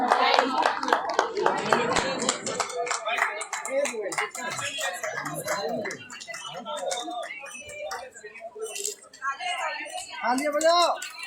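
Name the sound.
audience clapping at a Women's Day speech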